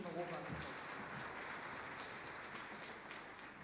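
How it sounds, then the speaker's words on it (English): A conference audience at an aviation safety event giving a round of applause, a faint, diffuse, steady wash of clapping that fades slightly over a few seconds, with a brief voice at the start. "Please give him a warm round of applause."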